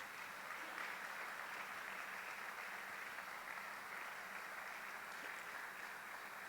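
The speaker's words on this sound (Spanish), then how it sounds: "Dale un fuerte aplauso a Dios." A church congregation claps in a steady, dense wash of applause heard from a distance, sustained and even throughout.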